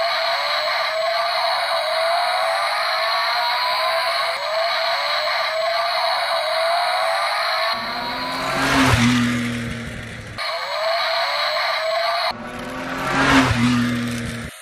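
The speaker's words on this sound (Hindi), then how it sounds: "तो सबसे पहले हम रेस करेंगे अपनी जीप रेंजर और डॉज चार्जर की। तो अभी इसको करते हैं स्टार्ट।" Toy RC Jeep Wrangler and Dodge Charger race along a road, giving a steady high-pitched motor whine throughout, broken by two loud closer bursts of revving or tire scuffing as the cars pass near.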